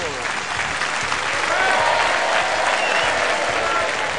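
A studio audience of secondary-school students applauds on a television set, a dense, steady wash of clapping that swells slightly halfway through and holds at full strength to the end.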